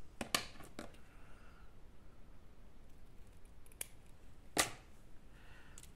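Scissors snip through lace for a Valentine's candle decoration, a few crisp isolated cuts spaced apart over quiet room tone, close and without speech.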